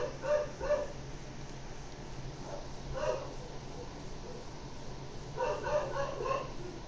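Household dogs bark at home, bursts of barking heard at a distance in short clusters near the start, middle and end over a steady background hum.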